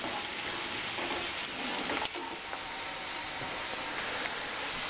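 Garlic frying in a pan for a spinach frittata, a dense continuous sizzle heard up close, steady throughout with one sharp clink of a utensil partway through.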